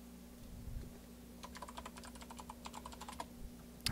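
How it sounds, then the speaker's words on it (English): Rapid tapping of keys on a computer keyboard, a quick run of soft clicks under a steady low hum, fairly faint and close. "You get to hear a bit of my typing."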